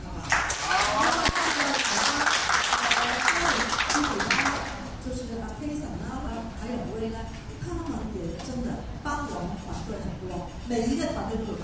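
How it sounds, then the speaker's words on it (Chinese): Audience in a company gathering clapping for general manager Elder, a dense burst of applause at the start that fades into lighter scattered clapping under murmuring voices. "Elder 总经理一个掌声"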